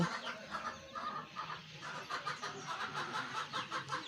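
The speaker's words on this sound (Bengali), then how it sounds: "মুরগির বাচ্চাগুলোও এই যে অনেক বড় বড় ফুটছিল এবার" Chicken chicks and hens cluck and peep continuously at close range, a busy, overlapping chatter with no voices.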